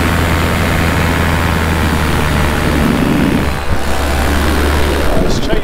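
Loud, steady drone of the engine on a Minari F1 paramotor in flight, with a sustained low hum and wind roar throughout.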